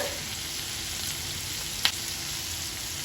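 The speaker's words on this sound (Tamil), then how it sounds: "வெங்காயம் தக்காளி நல்லா காஞ்சி மிளகாயெல்லாம் நல்லா வதங்கட்டும்" Onions, tomatoes and dried chillies sautéing in a pan for Andhra onion chutney, with a steady, close frying sizzle and one brief utensil click partway through.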